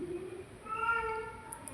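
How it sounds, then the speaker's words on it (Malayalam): A cat meows once, a drawn-out plaintive cry, fairly near, over a quiet background. "പൂച്ച ഇങ്ങനെ സൗണ്ട് ഉണ്ടാക്കിക്കൊണ്ടിരിക്കുന്നുണ്ട്"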